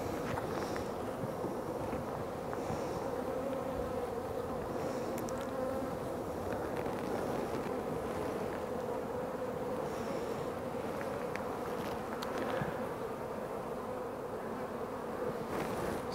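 Honey bees buzz continuously on hive frames during a hive inspection, a steady, close, even drone with occasional louder passes of single bees near the microphone.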